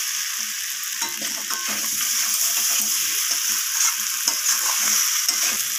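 Cauliflower and egg curry with coriander leaves sautéing in a pan, a steady close sizzle and hiss throughout with scattered stirring scrapes and clinks, no voices.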